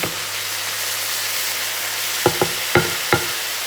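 Onions softened with a little water sizzle steadily in a pan for a bolognese sauce, with a few sharp clacks of a stirring spoon near the end.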